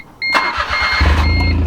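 A Smart car engine cranks and catches briefly as gas is given, a loud close rough rumble that swells and holds steady, with a faint beep-like tone underneath and no talking.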